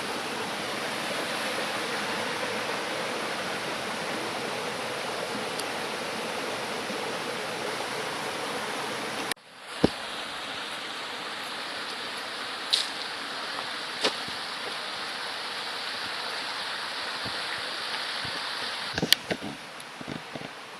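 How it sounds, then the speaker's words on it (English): River rapids and a small waterfall near Hardy Dam give a steady, loud rushing hiss that drops sharply in level partway through, then carries on more softly with a few faint clicks and knocks. "Really great rapids."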